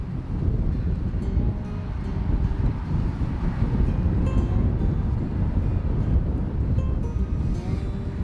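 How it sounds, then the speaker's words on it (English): Steady outdoor wind rumbles and buffets the microphone without pause on a breezy day in a parking lot. "It is very breezy out here"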